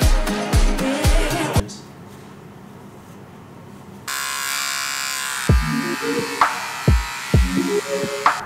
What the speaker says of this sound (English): Look, Tomasz shaved his face.